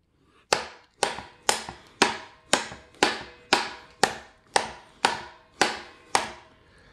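A Kubey budget folding knife is whacked repeatedly to test its lock, eleven sharp, evenly spaced cracking impacts, each ringing briefly before the next, loud and close with no talking.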